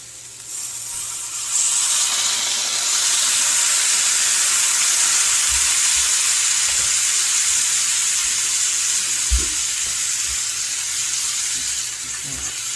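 Freeze-dried ground beef and chicken sizzle steadily in a pan with added water, tomatoes and cilantro, a continuous close frying hiss with a few faint stirring knocks.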